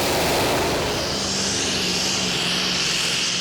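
A pulling tractor powered by a 14-litre Scania V8 roars at a Danish Championship tractor pulling event at Korskro, a loud sustained engine drone with a steady low hum that stays constant throughout.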